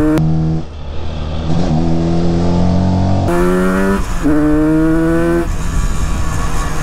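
A tuned Yamaha RD350 two-stroke motorcycle revs hard and close, its raspy exhaust climbing in pitch through repeated bursts with brief drops between, loud and alone.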